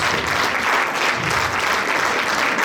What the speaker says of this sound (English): Please give a big round of applause to all our women leaders